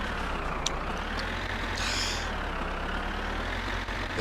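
Tractor engine in the My Summer Car video game, a continuous broadband rumble and drone while driving, steady and fairly loud with no talk.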